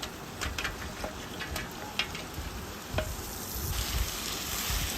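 Fried chicken pieces stirred into an onion and masala mixture in a pan for wedding-style biryani, a dense continuous sizzle with occasional sharp clinks of a utensil, growing slightly louder toward the end, no voices.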